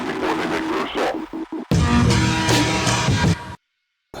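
Korg Monotron analog synthesizer played through a distortion effect, a buzzy gritty drone with pitched tones that cuts off abruptly into silence after a few seconds.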